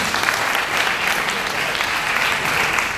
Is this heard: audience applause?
yes